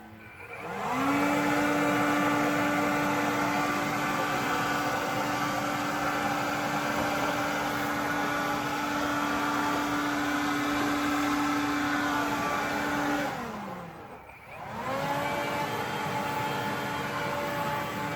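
A leaf blower fitted with a gutter cleaning attachment runs in a loud, steady whine close by, dipping briefly near the end before revving back up; no talk.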